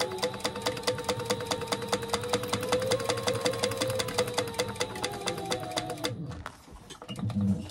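Sewing machine stitching a quarter-inch seam on a small fabric gift piece, a fast steady run of needle strokes for about six seconds, close and clear, then stopping abruptly into near silence with a brief soft rustle at the end.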